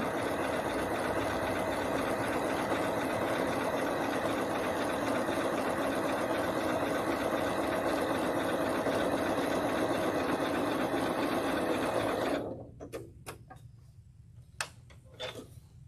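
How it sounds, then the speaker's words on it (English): Sewing machine running a quick stabilizing stitch along quilt binding, a fast steady mechanical whir and ticking for about twelve seconds, then stopping, followed by a few sharp clicks and quiet handling noises. "I'm just doing a really quick stitch just to stabilize this before I cut it."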